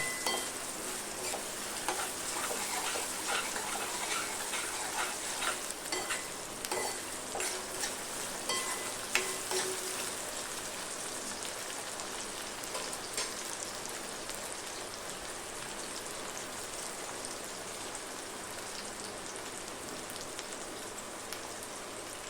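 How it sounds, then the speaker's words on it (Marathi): Tomato frying in hot oil for papdi bhaji, a steady close hiss and crackle like light rain, with occasional soft stirring scrapes against the pan throughout. "हा टोमॅटो घालायचा आता हे सगळं छानपैकी पुन्हा फ्राय करून घ्यायचं"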